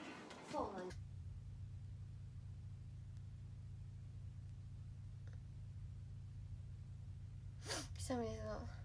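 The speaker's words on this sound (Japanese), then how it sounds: "くしゃみですな。" A close, sharp sneeze bursts out near the start. A second voiced sneeze or gasp follows near the end over a steady low background rumble, with a quiet pause between the two.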